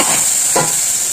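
Mustard seeds, urad dal and asafoetida tempering in hot oil in a pan, a steady bright sizzle with a brief stir or crackle burst midway, close and alone.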